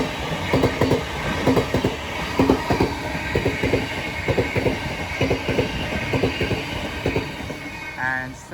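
A Southeastern Class 707 train running from London Charing Cross to Hayes passes through New Cross station, its wheels beating out a steady, rhythmic clickety-clack over the rail joints, with a brief squeal near the end.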